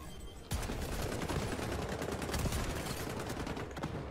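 Shotgun gunfire in a video game, a sudden loud blast followed by a dense, continuous rattle of rapid shots and impacts that carries on to the end.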